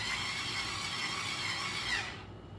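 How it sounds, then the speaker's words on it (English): A power tool whirs steadily while tightening bolts during assembly of a lightweight rolling TV stand, a continuous close buzzing for about two seconds that cuts off abruptly. "You're going to be power tool tightening it, which is going to be tighter than you can do with your hand."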